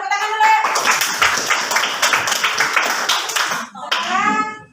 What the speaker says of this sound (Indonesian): Ya, coba tepuk tangan dulu.